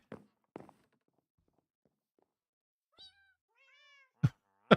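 Cats meow a few times after some quiet footsteps and taps, with thin rising calls in the middle followed by two louder, closer bursts at the end.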